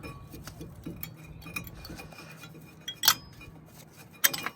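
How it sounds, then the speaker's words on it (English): Brake pads sliding out of a slightly rusty VW Up brake caliper, with soft scraping and handling noise broken by two sharp metallic clinks a second apart near the end. "It just slides out with the brake pads."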